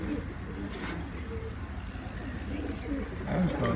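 Soft cooing of highflying pigeons rises over a steady low rumble of background noise, with faint chirps and rustling nearby.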